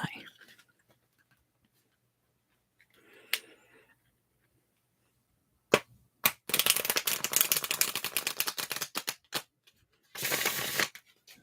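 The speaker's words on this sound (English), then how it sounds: "I'm going to start shuffling the cards" Playing cards are shuffled close up in a quiet ASMR setting, with a few isolated snaps followed by a long run of rapid crisp riffling clicks, then a final burst of riffling.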